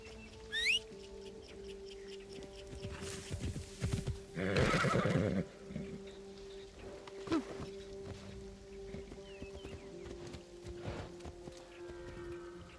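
In Assassin's Creed Shadows, a horse gives a brief squeal, then a sharp whinny midway, with scattered hoof clops and faint bird chirps over a quiet, low ambient hum.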